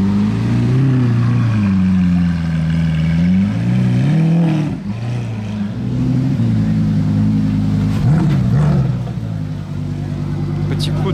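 A green Lamborghini Aventador S Roadster with open exhaust rumbles loudly and steadily nearby, its deep engine note rising and falling with a few throttle swells, while people talk over it.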